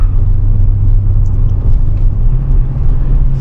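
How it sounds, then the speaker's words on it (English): Engine of a 2021 Toyota Tundra 4x4 running through manual-mode downshifts: a steady, loud, low rumble with no distinct rev spikes, heard close and continuous. No voices. "we're gonna use this big boy shifter and see how the transmission holds up if we try to play a little rough"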